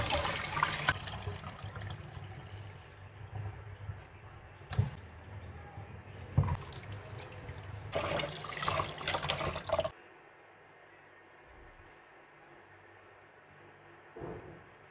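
Glutinous rice being washed by hand in water, sloshing and splashing with bumps against the bowl, followed by quieter trickling near the end.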